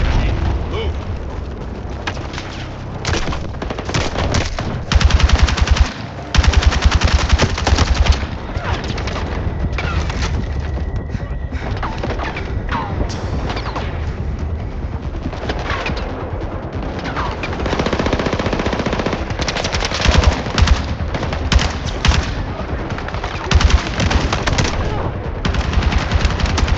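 Machine gun fire rattles in sustained loud bursts during a Battlefield 6 battle, mixed with explosions, other gunfire and shouted voices throughout.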